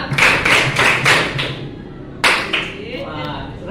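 A teacher leads a class through counted hand claps, four sharp evenly spaced claps in a row, then a pause and one more clap, with a voice speaking over them.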